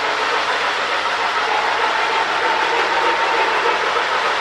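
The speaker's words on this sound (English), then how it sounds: "follow the train around a little bit" A Lionel 675 model train runs steadily on its track with a rebuilt smoke unit, a continuous close whir and rumble with faint rhythmic clicking of wheels, no voices.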